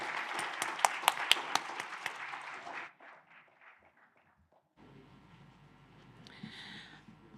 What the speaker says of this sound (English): A round of applause to the panelists.